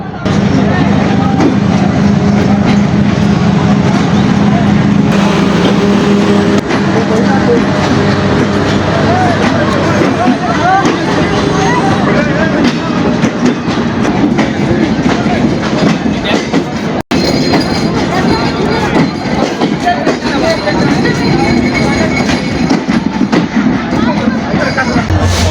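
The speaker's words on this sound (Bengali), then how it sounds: "ঢাকার ট্রেন চলে আসছে, ঢাকায় যাবে লোকজন।" A passenger train bound for Dhaka, on the Jessore to Dhaka route, pulls into a station: a loud, continuous rumble with wheel clatter and squeal, with voices mixed into the din throughout.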